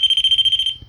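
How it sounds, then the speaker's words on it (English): A teddy bear toy gives off a shrill, steady electronic tone for under a second before it fades out, with a soft low rumble underneath. "this is the teddy bear, the noise you're hearing."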